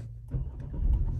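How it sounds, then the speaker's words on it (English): A car engine starting up with a short cranking stutter that catches into a rising low rumble, close by and fairly quiet, with no voices. "Let's turn on the car."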